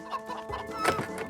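Chickens cluck in short, repeated bursts as they are herded together in front of a cage, several close calls overlapping at a moderate level with no speech.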